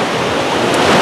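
Stormy sea surf at Anapa beach, a loud continuous roar of breaking waves mixed with wind buffeting the microphone, with no voices.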